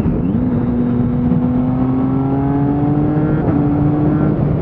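A motorcycle fitted with an HM Quickshifter Super Lite pulls hard from close by, its engine note rising steadily, then dropping cleanly at a quick upshift before climbing again.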